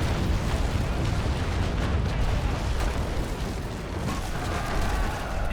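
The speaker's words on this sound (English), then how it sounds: "Just switched to firing from bow." Naval guns fire from a ship's bow in a video game, giving a dense, continuous booming rumble that stays loud and unbroken throughout, with no talking.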